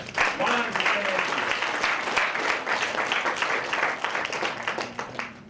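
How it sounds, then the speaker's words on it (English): Audience applause at a project management conference talk on business models, a dense sustained wash of clapping from a sizeable room that holds steady for several seconds, with some voices mixed in. "so give you a big hand of applause"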